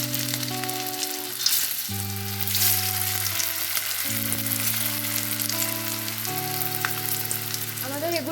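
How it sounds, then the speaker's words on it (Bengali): Banana flower koftas fry in oil in a kadai with a continuous close crackle and sizzle, while steady background music plays over it throughout. "আমরা এবার এক এক করে কোফতাগুলোকে ভেজে নেব"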